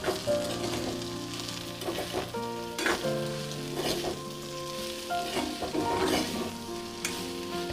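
Bitter eggplant frying with fish head in a pan, stirred again over low heat: a steady close sizzle with several sharper scraping stirs and clatters, and a sustained tonal hum running underneath throughout.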